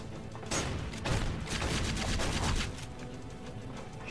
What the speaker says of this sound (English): Shooting me through the fucking wall